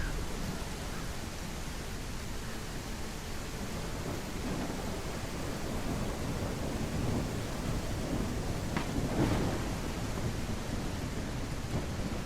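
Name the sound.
heavy rain and thunder in a medieval city-builder video game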